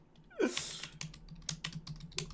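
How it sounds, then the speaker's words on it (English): Rapid clacking keystrokes of a typewriter, a quick irregular burst of sharp taps after a short whooshing sound, close and fairly quiet with no talk. "I could have sworn I heard a typewriter"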